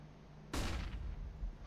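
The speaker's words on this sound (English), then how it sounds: "Deploying flashbang." A flashbang grenade in CS:GO goes off with one sudden sharp bang, followed by a brief ringing decay after a quiet lead-in.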